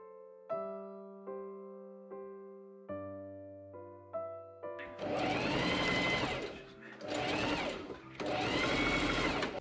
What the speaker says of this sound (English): I serge that seam.